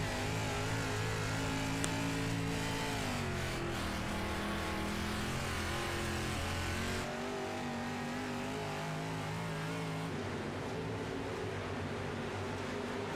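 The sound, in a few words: dirt late model race cars braking and revving in iRacing video game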